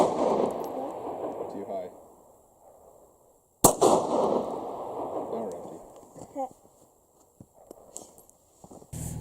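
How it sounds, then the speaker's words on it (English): A Glock 42 subcompact pistol chambered in .380 Auto fires two sharp, loud shots outdoors a few seconds apart, each trailing off into echo, with a voice speaking briefly between them. "we have the subcompact Glock 42 in 380 auto, and we're going to do a little bit of shooting with it today"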